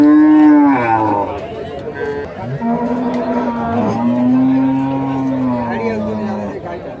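Dairy cows at a busy cattle market in Rajshahi give several loud, drawn-out moos close by, one after another, with crowd chatter and voices faintly in the background.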